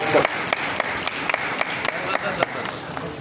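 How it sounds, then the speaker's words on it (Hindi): Audience applause at a school education honours award ceremony in Bastar district, with a steady wash of clapping and sharper individual claps standing out across about three seconds, and voices mixed in. "मैं सभी से चाहूंगा कि तालियों की गड़गड़ाहट"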